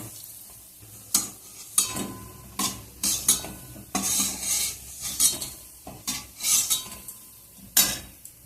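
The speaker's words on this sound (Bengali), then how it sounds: "এবার বড়াগুলোকে আমি সব তুলে নিচ্ছি" Fried fritters are lifted out of a pan with repeated metal scrapes and clinks of a spoon against the cookware over a light sizzle of hot oil, close and irregular.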